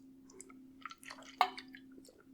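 Someone drinking water close to the mic, with small wet sips, swallows and mouth sounds scattered over a quiet steady hum, one sharper gulp near the middle.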